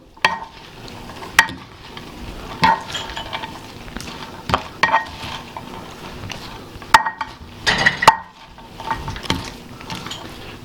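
A spoon scrapes and clinks against a dish while potato salad is mixed with its dressing, irregular knocks and wet stirring sounds, close and fairly loud, with no talking.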